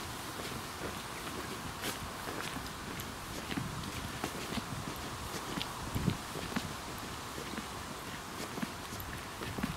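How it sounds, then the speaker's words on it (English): Foals walking at the Irish National Stud, hooves clip-clopping in soft irregular steps amid steady outdoor wind and background noise, with faint voices now and then. "There's some foals up here"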